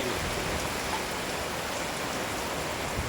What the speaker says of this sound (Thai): ฝนมาแต่ไม่แรงนะครับ